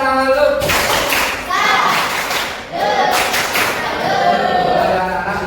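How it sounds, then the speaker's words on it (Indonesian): Schoolchildren in a classroom clap together in a rhythmic salute, a loud run of claps and taps with young voices mixed in. "Tepuk salut"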